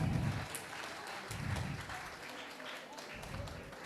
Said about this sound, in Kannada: ಬರಲಿ ಜೋರಾದ ಚಪ್ಪಾಳೆ ಪ್ಲೀಸ್.